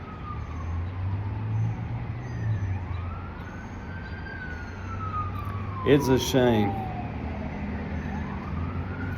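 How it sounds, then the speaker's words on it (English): A wailing siren rises and falls in the distance over low traffic rumble, joined midway by a brief burst of a second, sharper siren; a voice speaks briefly. "And you hear this, you may hear the sirens."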